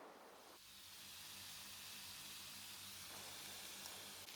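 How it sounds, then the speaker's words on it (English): Steady, loud sizzling hiss of chicken frying in a hot pan, continuous throughout with no voices. "turn up that heat and let the chicken sizzle."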